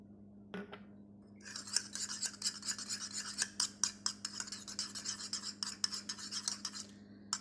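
A utensil whisks an egg with a little food colouring in a bowl, a fast run of quiet scraping, clinking strokes in a steady rhythm over a low hum, with no voices.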